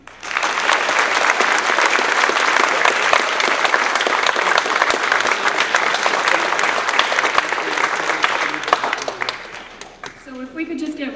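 A large audience claps steadily and loudly in a hall after a concert, a dense continuous applause that tapers near the end while a voice begins speaking.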